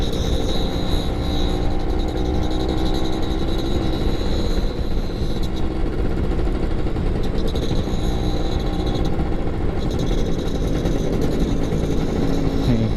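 A Yamaha F1ZR two-stroke motorcycle engine in Lampung, a loud and continuous close engine drone with a steady buzzing tone and slight shifts in pitch.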